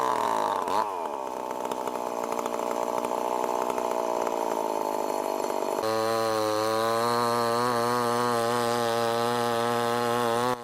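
A Stihl chainsaw runs loud and close throughout during tree felling, its engine whine holding steady before shifting to a higher, smoother pitch partway through, with no voices.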